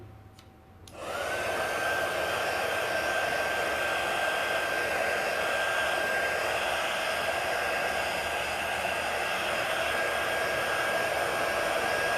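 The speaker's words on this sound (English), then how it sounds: "I'm gonna grab the dryer again" A hair dryer switches on and blows steadily with a constant airy roar and a high whine, close and unbroken for the rest of the clip, drying chalk.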